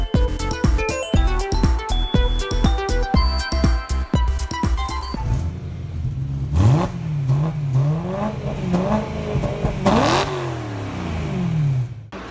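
A car accelerates and revs, its engine note climbing and falling through gear changes; it follows a stretch of rapid clattering hits, and the sound is loud and near with no talking.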